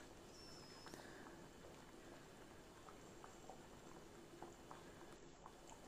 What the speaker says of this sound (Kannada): ಇವಾಗ ಕುದೀತಾ ಉಂಟು. ಸರಿಯಾಗಿ ಇದು ಬಾಯ್ಲ್ ಆಗಬೇಕು.